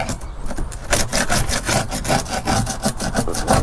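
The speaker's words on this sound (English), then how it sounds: "Use this flathead to get some of this stuff up." A flathead screwdriver scrapes flaking, peeling paint off a bass boat hull during restoration, making rapid repeated rasping strokes, loud and close, with no talking.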